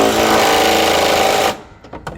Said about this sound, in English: I grab my impact, my left hand, pull, and position the impact in the socket